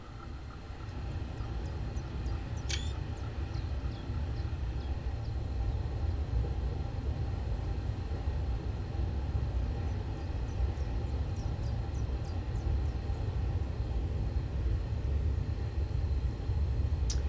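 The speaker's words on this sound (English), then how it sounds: "this train sounds quite cool in the exterior, I must say" Exterior sound of a train in Train Simulator 2018 on the Chengdu to Suining route: a steady, loud low rumble of rolling stock and engine drone, with a brief high squeal or horn-like blip near the start and faint chirps later.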